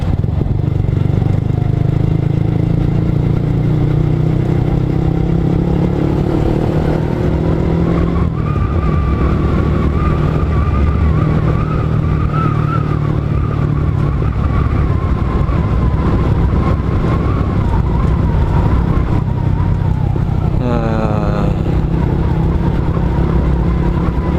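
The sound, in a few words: manual clutch motorcycle riding downhill in fifth gear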